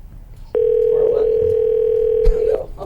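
A steady telephone dial tone sounds loud and close for about two seconds, ending in a brief click as a call is being dialed.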